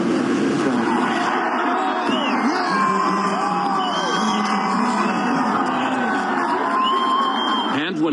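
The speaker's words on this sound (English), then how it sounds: "he received a big ovation" A large crowd cheers and whoops for president-elect Donald Trump as he greets people from a balcony, sustained loud ovation with yells rising over the roar.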